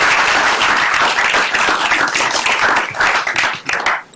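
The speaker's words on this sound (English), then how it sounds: "Give them a round of applause." Sustained audience applause after a startup pitch at a climate pitch contest, a dense, steady wash of many hands clapping that thins out slightly toward the end.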